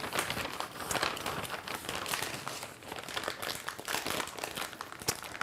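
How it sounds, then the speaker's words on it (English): Crinkling plastic piping bag handled up close while a metal piping tip is fitted inside during French macaron making, a steady run of crackly rustles and crunches with no talking. "Get your piping bag and insert the piping tip into the bag."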